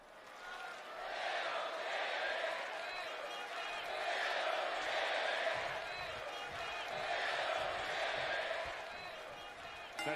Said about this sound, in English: we have got a crowd here